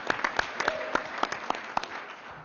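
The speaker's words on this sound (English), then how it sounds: "Also, a big round of applause for Mayor Giuliani" Scattered clapping from a small group at a committee meeting, individual claps distinct and irregular, fading toward the end, with a faint murmur underneath.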